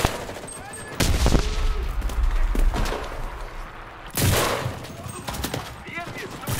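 Gunfire in a Garry's Mod war game rattles in loud bursts of rapid shots with heavy thumps, including two big blasts, while people talk over the shooting.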